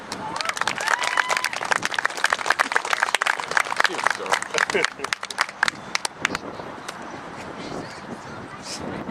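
Crowd at a high school softball banquet bursts into loud, dense clapping, sharp individual claps close by, tapering off into softer scattered claps and murmuring voices.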